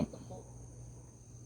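A faint, continuous cricket trill carries through a quiet Tagaytay evening over a low steady hum, with a brief soft knock at the start.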